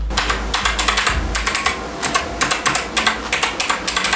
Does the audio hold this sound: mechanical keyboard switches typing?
yes